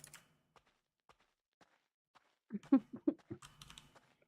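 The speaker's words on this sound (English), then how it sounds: "I love when I click, it sounds like a keyboard." Button presses in The Stanley Parable: Ultra give sparse single clicks like keyboard keys, spaced about half a second apart, followed by a quick cluster of louder clacks.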